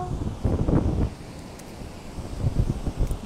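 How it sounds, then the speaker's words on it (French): Outdoor wind buffets the microphone in low rumbling gusts, swelling and easing over a few seconds with no voices. "il y a du vent"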